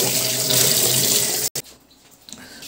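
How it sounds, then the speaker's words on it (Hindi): A kitchen tap pours steadily while someone washes their hands. The flow is close and fairly loud, then cuts off abruptly, leaving only faint small sounds. "अभी मैं थोड़ा पानी दो बर्तन से हाथ धो लेता हूँ"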